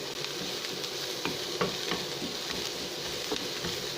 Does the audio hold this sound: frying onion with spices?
yes